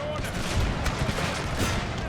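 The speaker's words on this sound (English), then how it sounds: "why don't you fire a round shot on that?" Round shot artillery and gunfire in a Total War battle set in the Thirty Years' War with Habsburg forces: several close, sharp booming reports and crackling volleys over a continuous battlefield din.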